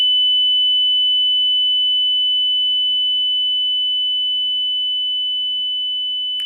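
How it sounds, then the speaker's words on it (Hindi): A pole-climbing training rig for mice gives a steady electronic buzzer tone that holds loud and unbroken throughout, with faint clicks and scrabbling beneath it. "बजर पे प्रेस करना है"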